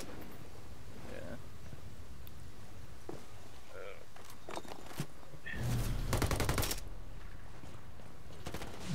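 Gunfire in a first-person shooter: scattered single shots early, then a dense, loud automatic burst around the middle, with faint footsteps and background voices under the action.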